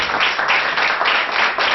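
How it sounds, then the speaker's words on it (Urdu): A church congregation claps loudly in praise of Jesus during a sermon, with steady, rhythmic applause that swells in regular waves and no talking over it. "خدا یسوع کے لیے، اس کے نام کے لیے زوردار تالیاں بجائیے"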